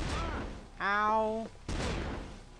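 Gunshots burst from a gun in the horror video game Curse. Two loud, noisy blasts sit on either side of a brief vocal exclamation.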